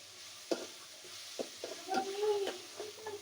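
Meat frying in plenty of oil in a home kitchen, with soft sizzling and a few sharp stirring knocks against the pot, interrupted by faint birdlike cooing, moderately quiet throughout.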